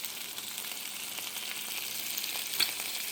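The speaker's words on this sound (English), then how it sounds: "We're going to go ahead and we're going to put in a little bit of butter in our pan." Butter sizzles beside chicken in a cast-iron skillet, a dense, even hiss of frying that holds steady throughout with one brief louder pop near the end and no voices.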